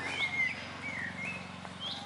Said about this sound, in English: Up there somewhere is the blackbird.